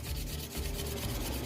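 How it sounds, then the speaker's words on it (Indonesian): Sandpaper of 400 grit rubbed back and forth to smooth dried glue, a loud close scratchy rasp in quick repeated strokes with a brief pause midway. "ini amplas yang saya gunakan pertama adalah amplas 400"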